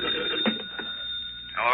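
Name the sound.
telephone bell ringing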